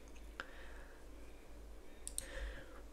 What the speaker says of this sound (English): We can click create a new project.